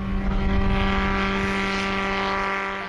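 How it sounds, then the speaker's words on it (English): A 701 light airplane with a 100-horsepower Aeromomentum engine climbs out after takeoff at a chapter fly-in, a steady propeller drone with a strong low hum, fairly close and gradually easing in level. "Okay, the 701 is airborne and climbing out."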